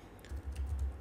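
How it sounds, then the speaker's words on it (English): Keys clatter on a computer keyboard during typing at a desk, a quick uneven run of soft clicks over low background hum, close and fairly quiet. "So I'm typing right here"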